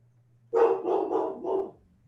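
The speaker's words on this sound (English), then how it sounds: "Do you hear him barking?" A dog barks in a quick run of about four close, fairly loud barks, alone with no talk, after a brief low hum.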